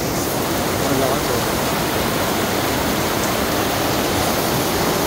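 Heavy rain pours down in a sudden downpour during a rainy day in the Philippines, a dense, steady roar of broadband hiss close by, unbroken for the whole stretch with no voices heard.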